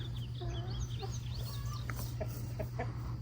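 Several roosters cluck and call in short bursts over a steady low hum, with scattered bird chirps in the background.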